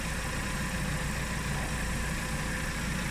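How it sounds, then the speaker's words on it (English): Nissan Micra K11 engine running at a steady idle, a continuous close low rumble with no clear rev rise and no voices. "let's give it a rev again as well."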